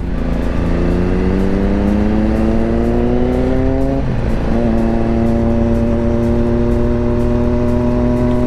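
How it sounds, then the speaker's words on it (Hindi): A loud Triumph Daytona 675R sport motorcycle engine revs and climbs in pitch, dips briefly, then holds a steady high drone, close and continuous. "आवाज़ मस्त है यार इस बाइक की"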